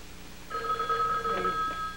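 A telephone rings in a home setting, a steady electronic trill starting after a brief quiet and continuing at moderate loudness until the end.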